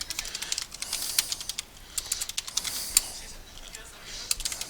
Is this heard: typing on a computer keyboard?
yes